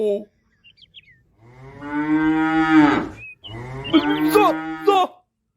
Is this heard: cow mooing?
yes